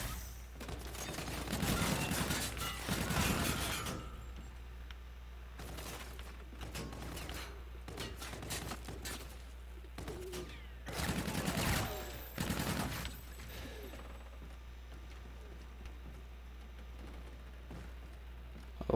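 Gunfire in the shooter game Call of Duty: Infinite Warfare, including the EBR rifle, bursts of rapid shots in several clusters over a steady low hum, mixed with mechanical clicks.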